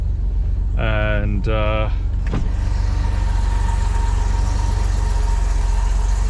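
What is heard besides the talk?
1979 BMW 635CSi engine idling while warming up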